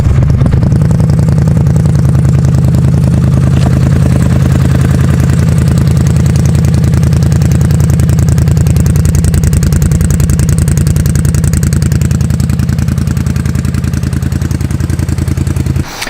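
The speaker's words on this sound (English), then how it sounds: "I'll go ahead and start it up so you can hear what it sounds like. So it's got a nice deep rumble to it" A Polaris Scrambler ATV with an aftermarket exhaust idles close by, a loud, steady deep rumble with constant throbbing pulses that holds for about sixteen seconds before cutting off at the end, with no talking.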